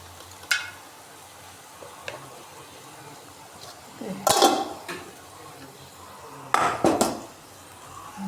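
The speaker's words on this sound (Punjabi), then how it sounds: "ਹੁਣ ਆਪਾਂ ਇਹਦੇ ਵਿੱਚ ਪੇਠਾ ਪਾ ਦਿੰਨੇ ਆ" Pumpkin pieces tipped into a pot of fried masala, bursts of clatter and scraping from the pot and spoon around the middle and near the end, with a few light clinks between and quiet gaps.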